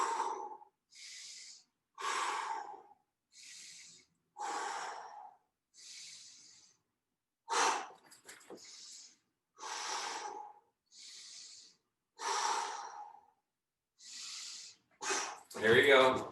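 Heavy, rhythmic breathing during a workout exercise, loud close inhales and forceful exhales repeating about every second in a steady pattern, with a harder puff at the end.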